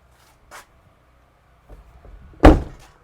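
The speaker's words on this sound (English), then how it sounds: "Once you've pulled the catch, the bonnet is just semi-released" A bonnet catch is pulled inside the door of a Chausson 656 motorhome: a couple of faint clicks, then a single sharp thunk as the bonnet pops free, alone in a quiet setting.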